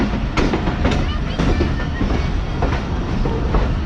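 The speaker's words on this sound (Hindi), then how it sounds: "कानपुर स्टेशन को ट्रेन ने छोड़ दिया है" The Pakistan Express rattles along after leaving Kanpur station, loud and close, with rhythmic clickety-clack wheel beats over a dense rolling roar and some voice mixed in.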